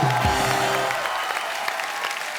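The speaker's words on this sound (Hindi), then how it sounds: "एक बार अक्षय पाजी, अभिषेक और रितेश के लिए जोरदार तालियां हो जाए।" A television studio audience breaks into applause for celebrity guests on a Hindi comedy show. The clapping swells briefly and then thins into scattered claps, with a short musical sting at the start.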